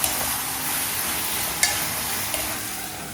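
Dal khichdi with chilli powder being stirred in a pan, a steady sizzling scrape with a few sharp spoon clicks, close and continuous with no talk.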